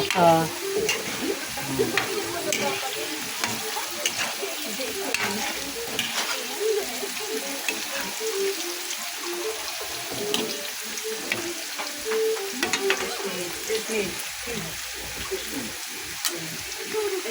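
Carrots and potatoes sizzle and fry in a pot for pork calderita, with a steady frying hiss, scattered crackles and occasional stirring scrapes throughout, fairly close.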